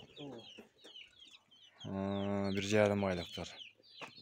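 Purebred Adler chicks, about six weeks old and kept for sale, clucking and cheeping nearby, with a long drawn call in the middle while people talk around them.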